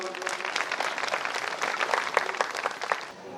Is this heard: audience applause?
yes